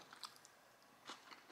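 A few crisp crunches from someone biting and chewing onion in a Peruvian meal of lomo saltado and arroz con mariscos, quiet and close to the mic with short pauses between bites.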